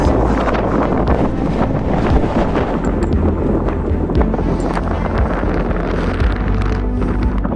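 Strong wind buffets the microphone on a cold outdoor walk near Jasper, a loud, continuous rumbling roar with gusty surges throughout and no talking.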